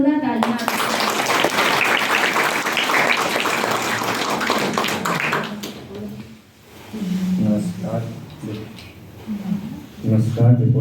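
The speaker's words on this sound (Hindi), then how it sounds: "एक बार जोरदार तालियां।" Loud, dense audience applause fills a hall at a community event, sustained for several seconds before fading as a speaker's voice takes over.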